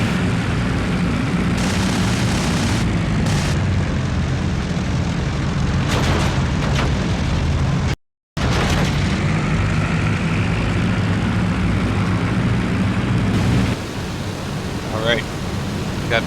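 A Mig-3 fighter in the IL-2 Sturmovik WW2 flight game fires its machine guns in short bursts over a loud, constant engine roar. A brief dropout breaks the sound partway through.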